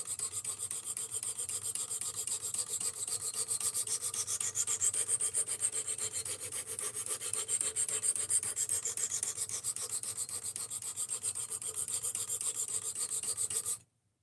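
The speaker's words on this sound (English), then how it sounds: "It's not that I don't like sharpening, it's that I'm reprofiling this from 20 degrees to 17" A knife blade is reprofiled from 20 to 17 degrees on a Work Sharp RMX, giving a continuous, even abrasive rasp that stays steady for about fourteen seconds and then stops abruptly, with no voices.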